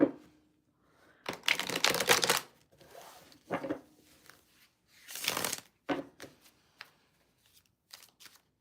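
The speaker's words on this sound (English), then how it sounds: "Shuffle again, Annabelle." Tarot cards are shuffled in several quick riffling bursts, separated by short pauses and soft taps.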